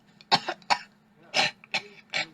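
A person coughs several times in a row, short sharp bursts in two quick clusters, close and fairly loud against a quiet room hum.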